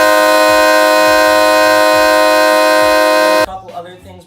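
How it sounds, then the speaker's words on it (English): A loud train horn fitted to a pickup truck blasts in one sustained, steady chord for about three and a half seconds, then cuts off abruptly, leaving a brief burst of outdoor noise. "We got the train horn right there."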